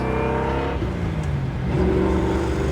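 A 1967 Chevrolet Malibu with a 500-horsepower 383 stroker V8 and four-speed pulls hard in second gear, its loud engine rising steadily in pitch close up, with no talk over it.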